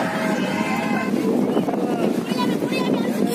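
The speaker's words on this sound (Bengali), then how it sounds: "দেখো সমুদ্রের ওয়েদার হাওয়া" Strong sea wind at Digha beach roars and buffets the microphone steadily throughout, with faint voices under the gusts.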